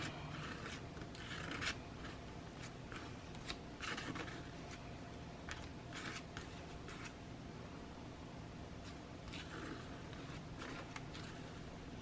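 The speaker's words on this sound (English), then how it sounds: "I'm just going to lay my stencil on here, and I'm just going to scrape across the edge, like so" Paste is scraped across the edge of a stencil laid flat, giving faint, close rasping strokes that repeat in short bursts with quiet gaps between them.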